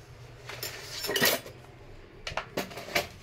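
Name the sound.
spoons clattering into empty cooking-oil tins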